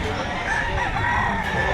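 A rooster crows among fighting cocks offered for sale at a Saturday outdoor market in Lipa, Batangas, one short crow over a busy crowd murmur.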